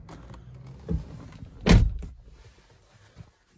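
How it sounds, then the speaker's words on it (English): Inside a 2014 Mercedes-Benz B200 CDI, the car door closes with a single solid, close thunk, preceded by a softer knock of movement and followed by a short, quiet settling. No one talks. "Close the door."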